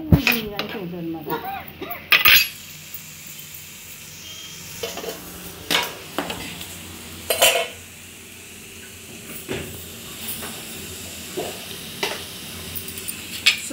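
Carrots, beans and potato pieces fry in a pan for a Telugu vegetable fried rice, with a low sizzle broken by scattered clanks and scrapes of stirring, fairly quiet, and a brief voice near the start.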